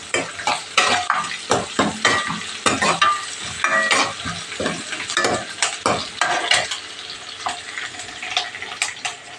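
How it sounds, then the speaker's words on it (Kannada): Onions fry and brown in a pan, a close sizzling hiss under rhythmic, repeated scrapes and clinks of a utensil stirring against metal, with no talking. "ಸ್ವಲ್ಪ ಕಂದು ಬಣ್ಣಕ್ಕೆ ಬರಲಿ ಈರುಳ್ಳಿ"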